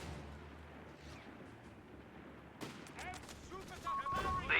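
Gunfire in the World War II strategy game Company of Heroes 3 begins faint under a low hum, then grows into rapid cracking volleys and bursts that build louder toward the end.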